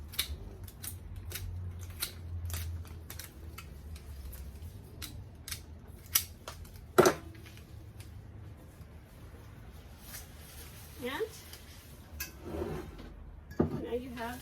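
Crisp scissor snips cut through lisianthus, protea and silver dollar eucalyptus stems while a bouquet is trimmed, a steady series of sharp close clicks with a few soft rustles and light knocks in between.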